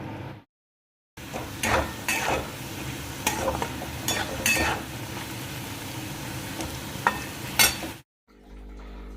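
Potato and coconut fry in a pan with dried chili and cumin, a soft sizzle broken by repeated scraping and stirring clatters of a spatula against the pan, close up, with short silent gaps at the start and end.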